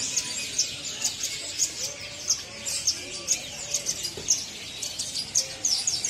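A caged panda canary, a singing male offered at a bird market, gives bright repeated chirps and trills in quick bursts, close and clear over a soft background murmur.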